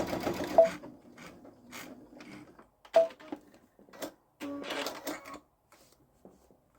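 A Babylock Solaris sewing machine quilting stitch in the ditch on a pumpkin pillow front, running in short close bursts of rapid mechanical ticking separated by brief pauses.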